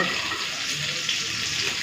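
Potatoes and cauliflower fry in a kadai with a steady, close sizzle and soft crackling throughout.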